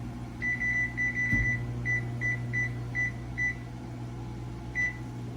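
A microwave gives a run of short, high electronic beeps, some quick and some spaced apart, over a steady low appliance hum.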